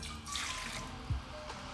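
Lukewarm water is poured into a mixing bowl for bagel dough, giving a short, faint splashing trickle followed by a soft knock.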